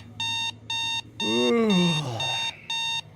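An alarm clock beeps in steady repeated bursts, with a brief groaning voice overlapping in the middle.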